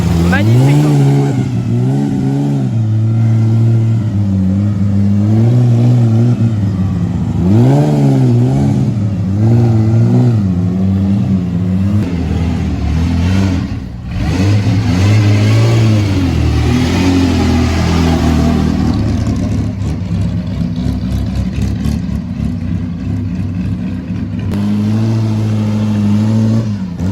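Vintage Bugatti cars at a gathering in Côte-d'Or pull away one after another, engines revving and rising in pitch close by, with steady mechanical roar throughout and voices faintly underneath.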